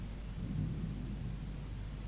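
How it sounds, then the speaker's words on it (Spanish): Rain falls in Dissidia Final Fantasy Opera Omnia as a steady, dense, low rumbling wash with no breaks, like a heavy downpour mixed with distant thunder. "Sino que te pongan el sonido de la lluvia"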